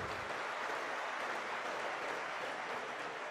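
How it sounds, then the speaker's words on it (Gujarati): An audience at a BAPS spiritual discourse breaks into applause, a soft, even rush of many hands clapping at a distance, steady for the whole stretch without any voices. "ખૂબ અભિનંદન, તાળીઓથી વધાવીએ."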